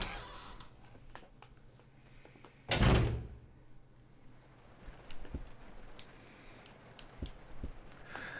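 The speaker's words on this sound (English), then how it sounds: "we somehow neglected to use one of the doors" A door opening in the Resident Evil 0 video game: one loud, sustained creaking scrape, followed by quieter footsteps and small clicks.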